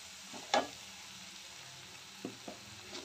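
Gram flour roasts in a pan with tomato puree and spices, making a low, quiet sizzle. One sharp scrape of a utensil comes early, and a few softer stirs follow near the end.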